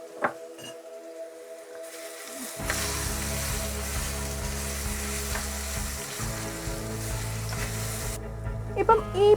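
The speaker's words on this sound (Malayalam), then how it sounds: "ഈ നെയ്യിലേക്ക് ബാക്കി നമ്മുടെ കയ്യിലിരിക്കുന്ന പഴം മുഴുവനൊന്ന് വഴറ്റിയെടുക്കാം." Ripe banana pieces sautéing in hot ghee for payasam, a steady sizzle that swells after a couple of seconds and keeps crackling close up, with occasional spoon stirs and a clink near the end.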